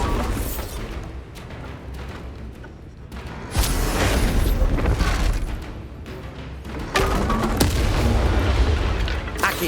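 Blasts of the Bombarda spell in Hogwarts Legacy boom loudly and continuously, with heavy rumbling explosions and spell effects that swell in waves and leave no quiet gaps.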